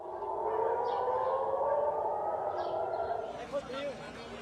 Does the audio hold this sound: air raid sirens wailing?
yes